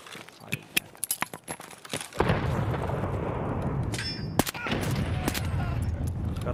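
Gunfire in Escape from Tarkov: a burst of sharp, spaced shots rings out first, then a dense, sustained rattle of rapid fire with loud cracks scattered through it, close and intense.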